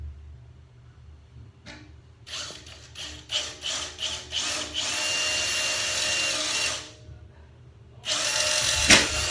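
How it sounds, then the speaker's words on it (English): A power drill boring a 1/2 inch hole in the center screw hole for a Jomy ladder mount, with several short bursts that lead into a sustained grinding run, then a pause and a final loud burst. "drill a 1/2 inch hole"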